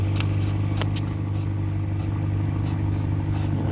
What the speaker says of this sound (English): What car is that? It's making that noise.